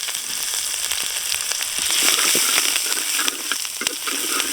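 Tomato and ginger frying in a pan for a potato-cauliflower gravy, a loud steady sizzle with scattered crackles and stirring scrapes, close up and without talk.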